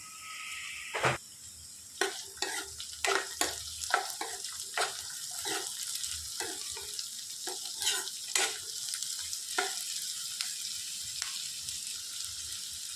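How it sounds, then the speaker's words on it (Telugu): Onions and raw mango pieces frying in a pan, a continuous hiss broken by repeated sharp clicks and scrapes of stirring, close and moderately loud. "సన్నగా తరిగి పెట్టుకున్న ఉల్లిపాయలు వేసుకొని వేయించుకోవాలి. ఈ విధంగా వేగేటప్పుడే మామిడికాయ ముక్కలు వేసేసుకోవాలి."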